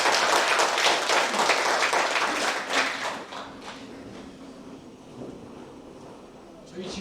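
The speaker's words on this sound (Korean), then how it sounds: "리더한테 큰 박수 한번." An audience at a district training meeting gives a loud round of applause for the leader, which tapers off over several seconds into quieter room noise.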